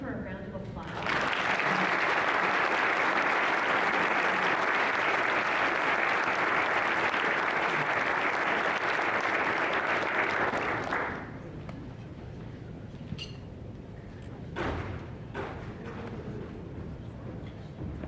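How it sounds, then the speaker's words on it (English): An audience at the Eller Executive of the Year event gives Michelle Gass a loud, sustained round of applause lasting about ten seconds before it stops abruptly, followed by a few stray claps and quieter room sound. "Let's give her a round of applause."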